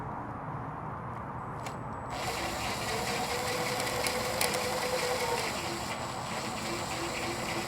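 A screw is driven into a butterfly wall anchor, a quiet continuous grinding, ratcheting turn that starts after a short hush and carries on steadily at close range.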